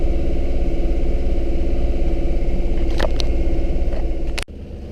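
A sailboat's engine drones steadily and loudly close by with a low rhythmic chug, running alone before it cuts off sharply near the end.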